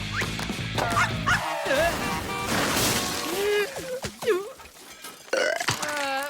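A cartoon dog, Cerberus, barks and yips several times in quick bursts during a game of fetch, mixed with whimpers, growly noises and a crash amid animated chatter.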